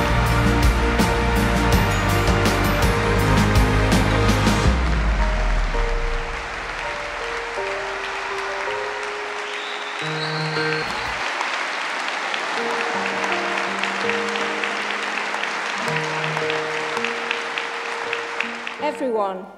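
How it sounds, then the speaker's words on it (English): A large audience at an Open University degree ceremony in London gives loud, dense applause for new graduates. The applause fades after about five seconds into quieter hall sound with a voice and soft tones. "give our newest bunch of Open University graduates a final rousing round of applause"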